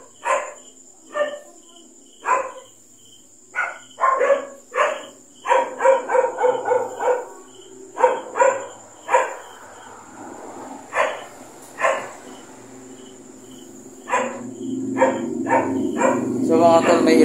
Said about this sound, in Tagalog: Kaso lang maraming aso.